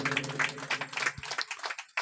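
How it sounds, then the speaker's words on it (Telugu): A congregation at a memorial prayer gathering claps in a quick, fairly dense burst of hand claps lasting about two seconds, set against sustained music. "చప్పట్లు కొట్టండి గట్టిగా."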